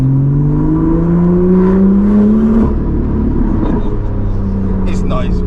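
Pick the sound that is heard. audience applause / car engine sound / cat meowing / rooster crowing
car engine sound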